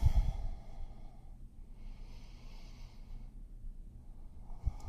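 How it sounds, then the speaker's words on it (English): Slow, deep breaths of a person holding a hands-and-knees yoga pose, soft sighing exhales and inhales close to the ear, with no talking. "3 full deep breaths here"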